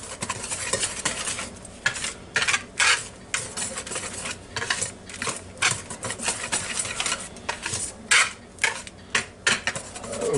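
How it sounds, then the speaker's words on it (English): A whisk beating ingredients in a bowl, rapid scraping and clinking strokes in uneven bursts, close and fairly loud, with no talking. "now we'll stir it up real good with this whisk here"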